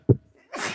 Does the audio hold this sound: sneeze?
yes